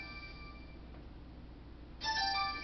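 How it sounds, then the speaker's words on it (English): A phone rings with soft electronic tones that grow noticeably louder and brighter near the end, with no voices present. "I'm gonna answer the phone."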